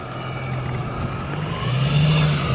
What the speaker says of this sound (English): car is hella loud